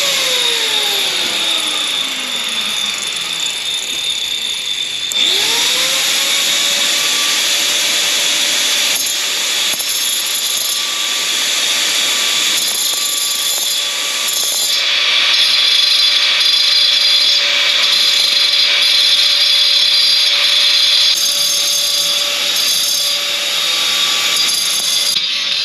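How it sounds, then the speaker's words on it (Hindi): An angle grinder cuts through the drive chain of a Honda Hornet 160R motorcycle, a loud, continuous high-pitched whine and grinding screech whose pitch drops as the disc bites at about five seconds, then holds steady, close and alone without talk. "ओके इसके लिए अपने को एक ग्राइंडर की ज़रूरत पड़ेगी"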